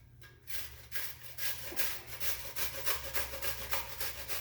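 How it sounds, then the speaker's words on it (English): Half an onion scraped against a kitchen grater into cream of mushroom soup for mac and cheese, a close, steady run of rhythmic rasping strokes with no talking. "Now we're going to grate a half an onion into it."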